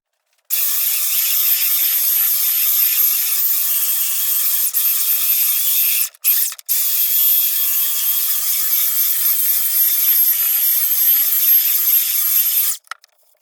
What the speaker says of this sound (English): we'll use the belt sander to kind of get them all nice and flat